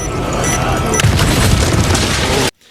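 Mines exploding in the Resident Evil 4 Remake video game, a loud booming blast with crackling debris that sustains for over two seconds before cutting off abruptly.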